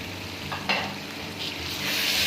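Goat or chicken liver masala frying in spices with yogurt just added, a soft steady sizzle with a few spoon stirs and scrapes against the pan, close and fairly quiet.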